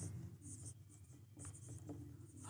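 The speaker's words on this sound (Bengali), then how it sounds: "দেখতে পাচ্ছ সবাই বোর্ডে আমি কি লেখার চেষ্টা করছি" Writing on a board during a maths lesson on simple interest, with soft, continuous scratching strokes close by and brief pauses between them.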